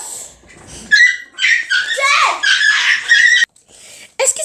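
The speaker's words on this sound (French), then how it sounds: "Excusez-moi pour ces bruits. En fait, c'est mes chiens qui étaient en train de bagarrer." Dogs snarling, yelping and whining in a scuffle, loud and close, with a brief quiet gap before more yelps.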